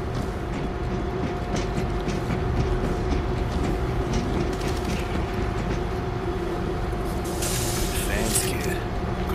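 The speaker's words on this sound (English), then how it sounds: "Get the train going." Train rolling in the video game World War Z, a loud continuous rumble and clatter with a sharp hissing burst near the end, while game characters speak over the noise.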